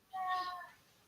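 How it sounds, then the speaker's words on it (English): A domestic cat gives a single clear, tonal meow, close and moderately loud, rising then trailing off over about a second. "my cat just started meowing as well"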